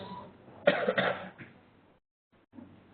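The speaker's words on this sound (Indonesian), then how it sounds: "maaf saya batuk" A single throaty cough with a short follow-up burst, fairly close, followed by a brief quiet gap and a faint murmur of a voice.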